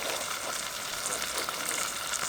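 Bacon sizzling in a hot pan, a close, steady crackling hiss with scattered pops, heard alone with no talk.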